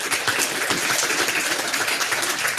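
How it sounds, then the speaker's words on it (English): At a school board meeting, a room applauds a group of guidance counselors, a steady, even wash of many hands clapping with no gaps across the whole stretch. "Please give them a round of applause"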